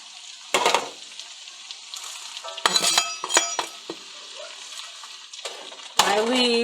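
Cabbage and potatoes fry in a skillet with a soft, steady sizzle, broken by several close bursts of scraping and stirring that end in a louder hiss.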